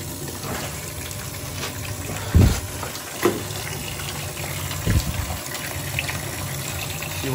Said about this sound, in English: Now we're gonna test the low water cutoff, which is making all that stupid noise.